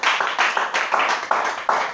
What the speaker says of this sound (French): On acclame le Seigneur Jésus-Christ.